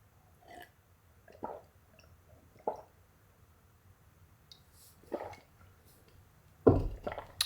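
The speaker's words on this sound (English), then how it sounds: "One moment, let me just drink this water." Someone drinks a glass of water close to the microphone. Several soft, separate gulps and swallows are spread out over quiet room tone, and a louder swallow comes near the end.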